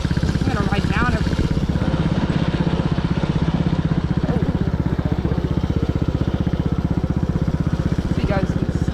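A dirt bike rides down a trail, its engine droning loud and steady close by the whole time, with voices talking briefly over it.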